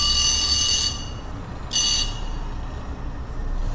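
An alarm rings in two bursts of high electronic tone, the first about a second long and the second shorter after a pause, over low background noise in a room with no talking.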